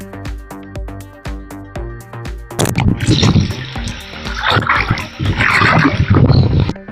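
Rushing water at the Chempanaruvi waterfall in Achankovil swells into a loud, steady broadband roar after a quieter opening of soft background music, continuing close and dense to the end.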